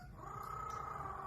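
A parrot imitates a cat with a single short, steady meow-like tone, faint and close, with no talking.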